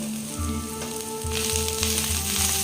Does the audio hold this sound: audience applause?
no